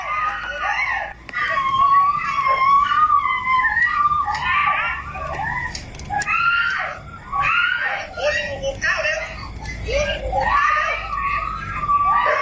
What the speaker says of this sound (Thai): มีเสียงกรี๊ดขึ้นมา